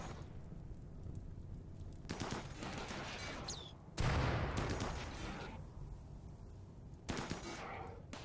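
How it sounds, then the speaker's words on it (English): Automatic gunfire bursts from a mechanoid centipede and defensive turrets during a raid in the colony-building video game Rimworld, rapid crackling volleys coming in dense stretches with brief quieter gaps between them. "the last centipede here was firing at the turrets for now"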